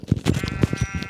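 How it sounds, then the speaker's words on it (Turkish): White lambs in a video game bleat in a quick overlapping series, close and loud, with a tonal game sound running beneath them. "Beyaz koyun yavruları aldım."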